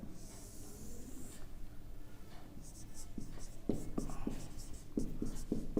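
Pen or marker scratching across a board or paper during a Hindi computer lesson on input and output devices, a run of short, fairly close strokes with soft background hiss and no talk over them.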